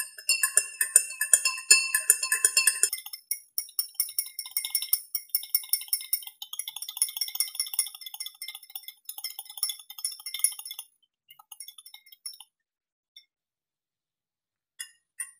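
A spoon stirring soy sauce into water in a glass beaker gives rapid, bright clinks against the glass. The clinks are dense at first, then thin out and become sparse, isolated taps before stopping.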